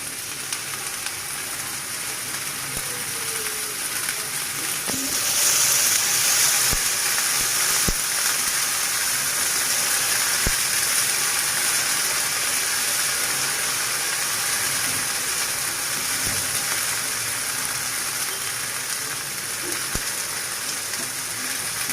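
Chopped okra sizzles in a little oil in a preheated pan, giving a steady, dense crackling hiss like rain that continues evenly throughout, with occasional faint clinks and no voices.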